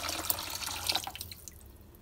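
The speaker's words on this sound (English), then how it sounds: "I got 4 cups of water here. You can use 2 cups of water or 2 cups of stock, and I'm going to pour that in." Water poured from a measuring container into a pot while making ghee rice, a close splashing trickle in the first second that tapers to faint drips, with no talking.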